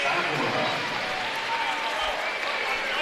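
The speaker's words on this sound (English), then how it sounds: "It's a nice round of applause from the ASRC crowd" A basketball crowd at an ASRC arena during an NCAA Division II men's regional semifinal applauds in a steady, dense round of clapping lasting the whole stretch, with an announcer talking over it.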